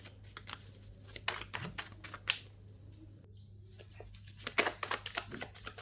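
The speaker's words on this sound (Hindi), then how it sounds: "सबसे पहले हम कार्ड शफल कर लेते हैं।" Tarot cards shuffled by hand, giving a run of soft, quick riffling flicks and taps that come in irregular bursts, close and fairly quiet, with a low steady hum underneath.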